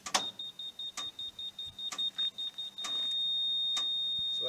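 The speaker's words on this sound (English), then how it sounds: "when you hear that constantly beeping, that tells you that that's on the level" Electronic beeps from a laser level chirp at a steady rhythm, roughly one per second, then merge into a continuous high tone when level, with faint mechanical noise underneath, at a paver patio installation.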